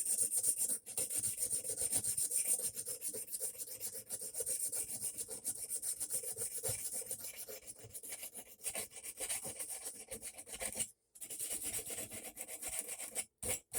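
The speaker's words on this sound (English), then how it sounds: "Now let's go ahead and smooth out the back a little bit since I did use a belt sander, so I'm going to smooth all this out real quick." An 80 grit sandpaper is worked by hand along the back of a knife blade, giving a steady, close rasping scrape with continuous back-and-forth strokes and a few brief pauses near the end.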